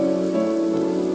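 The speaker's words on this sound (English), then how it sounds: "Let's get home and out of the rain." Rain falls steadily in a forest in The Witch's House game, a constant, fairly loud wash with a faint tonal hum beneath it.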